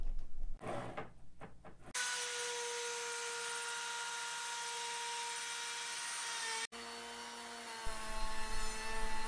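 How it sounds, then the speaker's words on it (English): Router cutting wood on a plywood router sled, a loud steady whining motor drone that holds for several seconds, briefly drops out, then resumes, preceded by a few short knocks. "The router sled works great. It's super easy to use and it's really precise."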